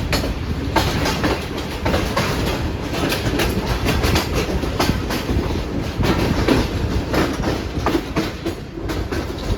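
The Pak Business Express, a premium Karachi-to-Lahore train, heard from inside an economy-class coach: a loud, steady rumble of wheels on rails with a rhythmic clickety-clack throughout.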